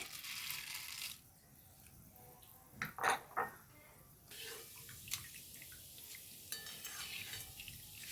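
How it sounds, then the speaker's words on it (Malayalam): Chickpeas and roasted gram are heated and stirred in a pan, producing soft scraping and rattling with a few brighter clinks of the spoon against the metal, fairly quiet against a background hiss. "ഇനി ഞാൻ ഇതിലേക്ക് കടല പിന്നെ പൊട്ടുകടലയാണ് ഇട്ട് കൊടുക്കുന്നത് ഒന്ന് ചൂടാക്കി എടുക്കുന്നേ ഉള്ളേ"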